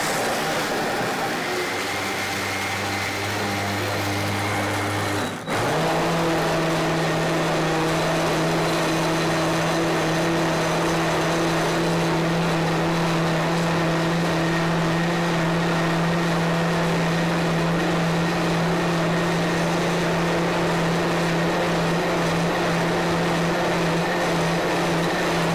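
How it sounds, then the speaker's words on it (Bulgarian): A blender whirs as it blends sprouted hemp seeds and pears into a stevia-sweetened milk. A quieter hum runs for about five seconds, then the motor jumps to a loud, steady high-speed whine that runs unbroken to the end. "включваме блендера"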